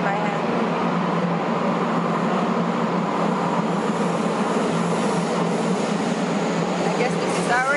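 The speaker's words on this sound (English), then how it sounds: "I guess this is our train." Train arriving at a station in Rome, a loud steady rumble and rolling roar that holds for several seconds with faint squeals near the end.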